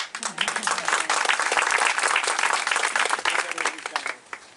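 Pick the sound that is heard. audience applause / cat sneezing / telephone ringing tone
audience applause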